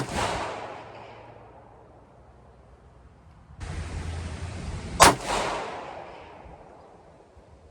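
A .223 Howa Mini Action rifle in an MDT Oryx chassis fires at an outdoor range, one sharp, very loud report cracking out after a stretch of quiet hiss, with a second loud blast-like burst nearby.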